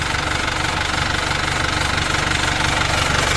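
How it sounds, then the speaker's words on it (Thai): An old Isuzu Mangkorn Thong (Dragon Eye) cab pickup engine idles steadily up close, a rough, continuous rumble with a slight knocking rhythm. "มาดูครับเสียงเครื่องเป็นไงครับ เดิมๆ เพราะๆเลย"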